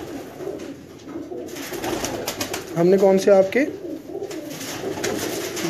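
Pigeons coo from a pigeon loft, a low throaty burst rising clearly for about a second midway, with someone talking over most of the clip.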